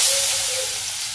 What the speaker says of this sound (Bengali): তো বেগুনগুলো আমি দিয়ে দিই কড়াইতে।